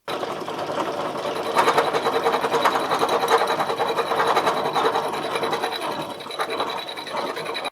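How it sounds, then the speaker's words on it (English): A metal lathe turns and smooths cut lengths of steel tube for new engine mounts on a Ford Anglia, giving a steady close whirring and scraping that runs continuously with slight swells in loudness. "let's get over to the lathe and get turning"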